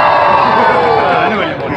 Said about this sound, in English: let's do a practice scream